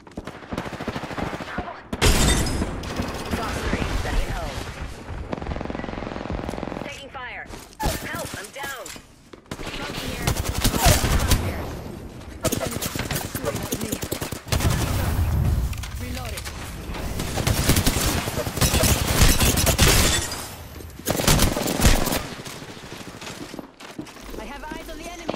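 Apex Legends gunfire: loud bursts of automatic weapon fire and shots come in repeated waves across the fight, mixed with game voice callouts.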